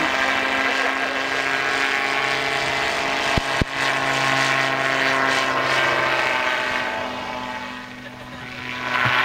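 A gyrocopter engine and rotor drone steadily in flight, with a sharp click partway through and the propeller note swelling as power increases, then easing toward the end.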